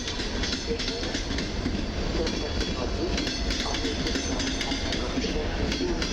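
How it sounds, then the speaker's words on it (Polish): A Mazowia double-deck passenger train pushed by an EU47 locomotive rumbles steadily past at Warszawa Zachodnia station, wheels clattering on the rails with continuous heavy noise throughout, close by. "A tu z kolei jedzie pociąg piętrowy Mazowia z Siedlec do Płocka"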